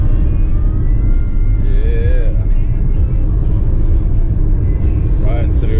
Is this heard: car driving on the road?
yes